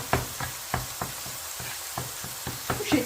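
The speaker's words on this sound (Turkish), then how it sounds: "Biberlerimiz de bu arada biraz daha kavrulmaya fırsat bulacaklar." Peppers roasting in a hot pan for a smoked-eggplant kavurma, giving a steady sizzle broken by repeated knocks and stirring clatters at a fairly regular pace, close up with no talking.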